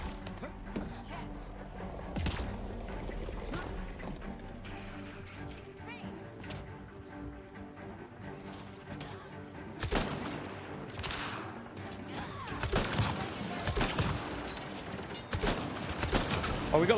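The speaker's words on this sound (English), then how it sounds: "Hey, this is literally just a grenade launcher." Grenade launcher fire in a shooter video game, a few sharp loud blasts in the second half over background game sound, with people talking.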